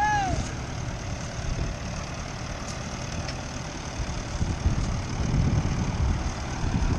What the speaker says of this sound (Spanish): Este es un tractor autónomo